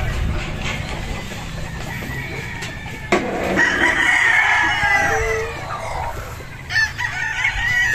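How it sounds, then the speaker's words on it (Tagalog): Many chickens and roosters at a breeding farm with a range area crow and cluck continuously, with several loud crows overlapping against a busy flock background and no talk. "Ang daming manok."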